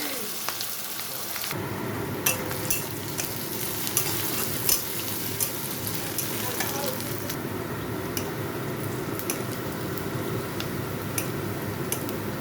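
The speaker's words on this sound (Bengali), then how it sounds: "কড়াইতে তেল গরম হয়ে গেছে, তো এখানে আমি দিয়ে দিচ্ছি রসুন, কাঁচা লঙ্কা, পেঁয়াজ, আদা" Garlic, green chili, onion and ginger drop into hot oil in a wok and break into a steady loud sizzle, with scattered crackles and clicks over the frying.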